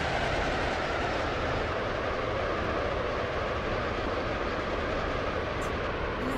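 A video game train rumbles continuously along the rails, a steady loud roar with a faint rhythmic clatter underneath and no voices.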